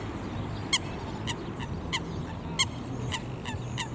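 Ducks, alongside a coot and a seagull, calling on the water: a series of short, sharp honking quacks spaced irregularly over steady outdoor background noise, moderately near.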